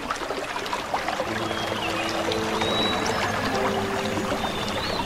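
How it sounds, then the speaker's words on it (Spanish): A gently flowing stream gives a continuous soft rushing and trickling wash, steady throughout with no voices. "Llegamos hasta un suave arroyo."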